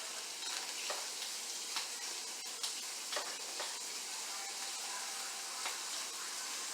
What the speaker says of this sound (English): We're going to add a little bit more heat to it so that we get a good sear going on this meat.